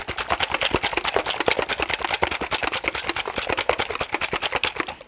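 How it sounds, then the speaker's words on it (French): A drink shaker is worked by hand in rapid, even rhythmic shakes, each stroke a sharp percussive rattle, close and fairly loud, continuing steadily without any talking. "Donc ensuite, hop, je mélange mon shaker."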